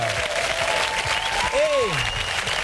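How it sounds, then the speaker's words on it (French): Studio audience applause on the French TV show Sacrée Soirée, a steady broad wash of clapping running the whole time, loud and close, with a rising tonal sweep briefly cutting through near the end. "Le public de Sacrée Soirée vous applaudit très fort."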